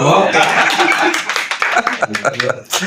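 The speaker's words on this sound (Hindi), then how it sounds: "अंकल के लिए भी ताली बजाइए" A congregation claps during a Hindi-language Bible teaching session on Exodus, with scattered close claps mixed into loud overlapping voices and some laughter over a few seconds.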